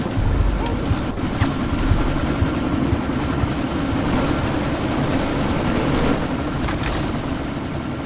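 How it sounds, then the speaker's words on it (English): Helicopter in the game Deus Ex: Mankind Divided, a steady loud rotor and engine drone sustained throughout amid a sandstorm, with no talk. "you need to disable that chopper"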